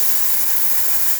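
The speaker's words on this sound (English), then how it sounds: "Test the steam." The steam wand of a La Marzocco Linea Mini espresso machine, freshly serviced, releases a loud, constant, broad hiss of steam, close and steady for the whole moment with no voices.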